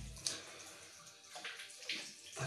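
Cold tap water running into a basin during a classic shave with a Muhle R89 safety razor. It is a faint, uneven splashing and gurgling with a few sharper spurts, heard alone and close.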